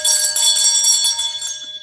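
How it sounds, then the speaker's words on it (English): A handheld bell rung repeatedly in a continuous bright, shimmering peal, close and loud throughout, with sustained ringing overtones and no talking. "Let's ring my other bell"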